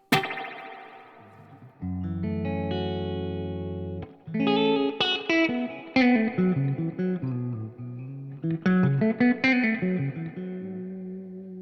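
Electric guitar runs through a Tone King Imperial preamp with the reverb turned up high, playing a held chord and then plucked phrases, each note ringing into a washy reverb tail, alone and clear.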